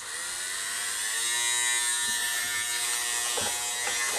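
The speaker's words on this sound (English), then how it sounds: "it's the homemade disc sander on a Dremel" A homemade 150-grit disc sander on a Dremel rotary tool produces a close, continuous high-pitched buzzing whir that rises slightly as it runs, with no talking.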